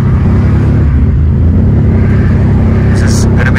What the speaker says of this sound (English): So this is what the car sounds like with a blown turbo.